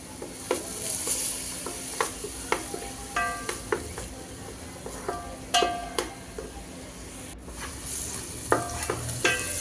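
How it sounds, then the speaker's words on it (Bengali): Onion sizzles in a pan while a spatula stirs it, making a series of sharp metallic scrapes and clinks over a continuous frying hiss, fairly close. No speech. "তো পেঁয়াজটা একটু নেড়ে চেড়ে"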